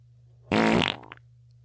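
A fart sound effect: one short, loud, buzzy blast that dies away quickly, heard alone over a low steady hum.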